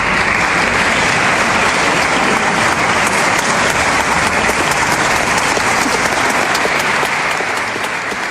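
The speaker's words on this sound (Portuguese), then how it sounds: "Produção, cadê aqueles aplausos, produção" Dense, sustained applause from a large crowd, loud and continuous without pause for several seconds.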